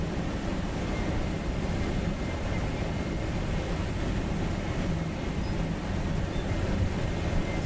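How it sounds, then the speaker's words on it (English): Heard from inside a glider under tow just after takeoff, the tow plane's engine and the rushing air make a steady, broad roar that fills the whole stretch, with no talking. "we stay close to the ground to let the tow plane accelerate"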